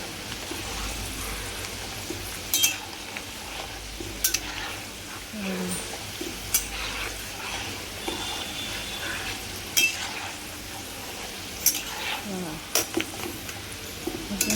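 Peanuts roasting in a pan for crisp monsoon chivda, stirred by hand: a dry rattling crackle under scraping, with sharp clinks of the spoon against the pan at irregular intervals, close by and without talk.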